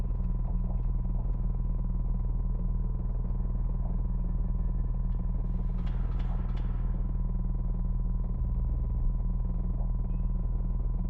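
A steady electronic sine tone drones throughout a puzzle in the game Genesis Noir, with a low hum beneath and a brief chirpy flutter midway, no talking.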